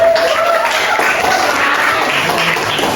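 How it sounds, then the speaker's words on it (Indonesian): Classroom clapping for a student after a maths lesson, a loud, steady wash of many hands clapping together, sustained throughout with faint voices mixed in. "Yuk sekali lagi tepuk tangan buat Maul lah."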